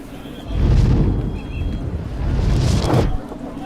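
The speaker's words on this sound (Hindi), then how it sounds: "ट्रिगर दबाने पे धमाका कहाँ होगा आप देखते जाइए सर" A movie explosion set off by a detonator trigger: deep, rumbling booming blasts with a roaring, wind-like rush, two swelling surges of loud low-end noise.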